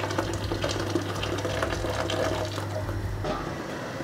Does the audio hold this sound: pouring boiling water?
yes